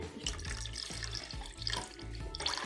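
Boiled milk pours into ragi porridge being made as baby food, a steady liquid splash and trickle, close and fairly quiet, lasting a few seconds.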